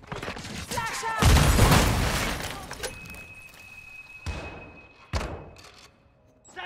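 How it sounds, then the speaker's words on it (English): A flashbang grenade in Call of Duty: Modern Warfare II goes off as a loud, booming burst, followed by a lingering high ringing tone and a few more sharp thumps and cracks of game combat. "grenade! Flash out!"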